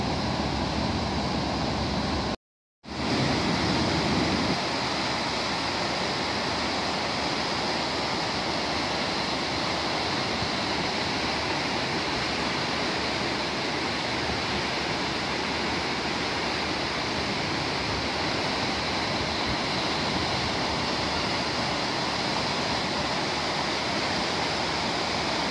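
River water pours over a weir on the River Ogmore in Bridgend in January, a steady, loud, unbroken rushing roar with one brief dropout near the start.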